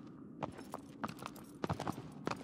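A horse's hooves clatter on stairs in the video game Shadow of the Colossus, a quick irregular series of sharp clip-clop knocks heard close and fairly loud.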